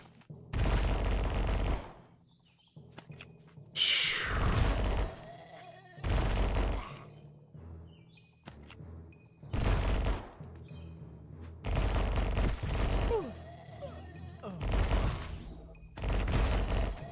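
Bursts of loud video game gunfire fired from a fixed position, several sustained volleys of a second or more separated by short gaps, close and dominant with no talking.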